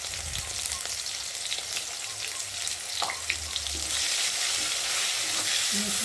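Dry spices with turmeric, chili, cumin and salt frying in a pan, giving a steady close sizzle with occasional stirring scrapes that grows slightly louder toward the end.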